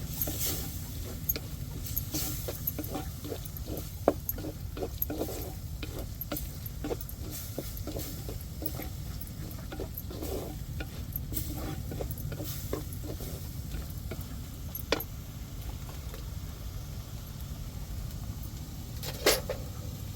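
Chicken is sautéed with turmeric, chilli powder and garam masala, bringing repeated scraping and tapping stirs in quick runs over a low background rumble, nearby with no talking.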